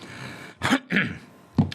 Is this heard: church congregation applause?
no